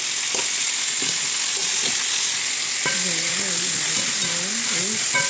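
Beef caldereta with carrots and potatoes sizzles steadily in a pot, a constant loud hiss with a few soft spoon knocks as it is stirred, while a voice talks briefly over it.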